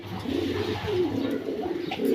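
Pakistani high flyer pigeons coo steadily at close range, their low throaty rolling calls overlapping continuously with a faint hum of the loft behind.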